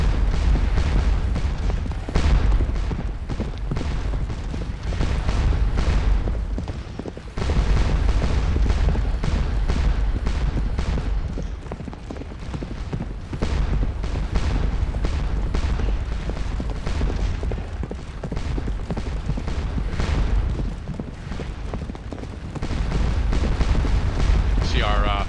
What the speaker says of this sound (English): Battery opening fire.